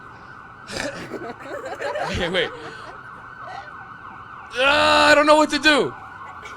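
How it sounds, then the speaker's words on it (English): A siren passes outside, loud wailing sweeps rising and falling in a burst midway through, with a person's voice speaking and chuckling before it over a steady background hum. "I'm just gonna dance until the siren goes by."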